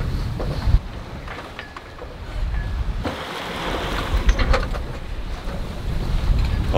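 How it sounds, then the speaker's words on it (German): Wind gusts over a sailboat under sail with the engine off, a rough blustery rush mixed with water slapping against the hull, rising and falling irregularly, with no talking. "Der Motor bleibt aus, wir haben genug Wind"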